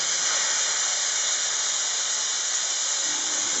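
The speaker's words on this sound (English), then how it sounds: "this is a steam and vac detailing nozzle, so we're going to get steam out of the top tube" Jet Vac Ultima steam and vac detailing nozzle blows a loud, steady, unbroken hiss of steam that holds even from start to end, with no talk.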